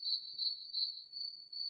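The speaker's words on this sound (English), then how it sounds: "Here's where the crickets come in." Crickets chirp in a steady, continuous high trill, fairly faint and constant throughout, with no talk over it.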